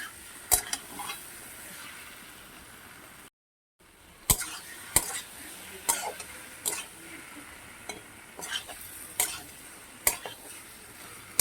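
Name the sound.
mutton frying with spices on medium flame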